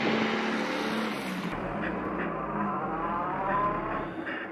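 Volkswagen Caddy backing up in reverse on new tyres, a steady engine drone with road and tyre noise at close range, no talk.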